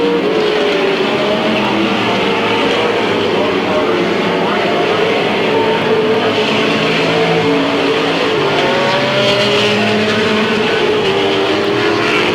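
Race cars roaring around the oval at Midvale Speedway in a 1995 race, engines loud and continuous with pitch sweeping as they pass, an announcer's voice faintly mixed in.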